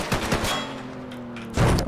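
Gunfire in Garry's Mod sounds as a few quick close shots, followed by a steady hum and then another loud burst at the end.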